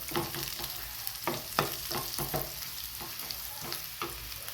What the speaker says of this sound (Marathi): यामध्ये हळदी हे मीठ चवीनुसार छान मिक्स करून घ्यायचं